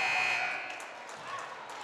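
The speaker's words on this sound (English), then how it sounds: "That whistle was before the buzzer." A basketball game buzzer sounds in a gym during a girls' varsity high school game: one loud, flat electronic tone lasting about half a second, followed by crowd noise and echoing gym ambience.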